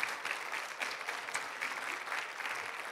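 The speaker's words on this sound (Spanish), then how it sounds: "darle un aplauso bien fuerte al Señor" Sustained congregation applause in a church service, a steady wash of many hands clapping at moderate volume without speech.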